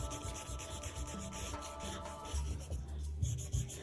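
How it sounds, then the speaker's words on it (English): An eraser rubbing out pencil lines on paper for a painted space shuttle scene, continuous brisk back-and-forth scrubbing strokes, close and steady throughout. "Now I'm going to take the time to rub out my grey lead so I can't see it anymore."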